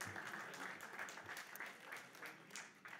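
Delegates at a French political party congress applaud local elected officials and mayors, a steady, moderately distant round of clapping filling the hall for a few seconds.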